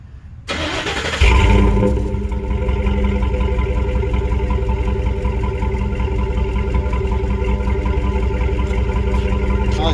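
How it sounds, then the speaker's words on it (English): A Ford F-150 pickup engine cranks briefly, catches and roars to life, then settles into a steady, loud idle with a rough mechanical rumble. "I'm going to start it up, and Dawson's going to go back by the exhaust,"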